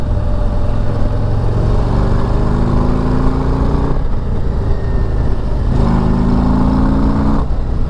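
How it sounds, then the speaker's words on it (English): A Harley-Davidson Street Glide ST with its Milwaukee-Eight engine pulls hard while being ridden, a loud, steady rumble with rising revs through the gears and brief dips between shifts. "That Milwaukee-Eight just has a good sound to it."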